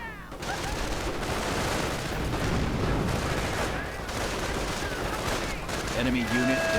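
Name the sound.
sniper gunfire in a video game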